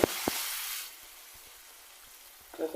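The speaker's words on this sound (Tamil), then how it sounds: "நல்லா இப்படி வதக்கி விட்டுக்கோங்க" Masala paste sizzling in hot oil in a pan for a tamarind okra curry, a steady soft hiss that fades partway through, with a couple of brief clinks of a spoon.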